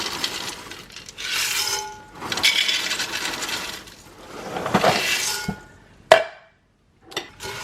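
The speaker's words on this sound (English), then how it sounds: "add 3 more cups of cereal" Cereal is poured into a bowl of chocolate mixture in several bursts of crisp, rattling clatter, separated by quieter gaps, with a few sharp clinks near the end.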